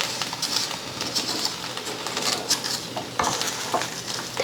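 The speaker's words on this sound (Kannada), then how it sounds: "ಇದು ನೆಲ್ಲಿಕಾಯಿ ಸಕ್ಕರೆ ಎರಡು ಮಿಕ್ಸ್ ಮಾಡಿ ಒಂದು 5 ನಿಮಿಷ ಕುದಿಸ್ಕೋಬೇಕು ರೀ" Amla, Indian gooseberry, is stirred with sugar in a pan, giving a continuous scraping and bubbling sizzle with irregular clinks and knocks from the spoon against the pan.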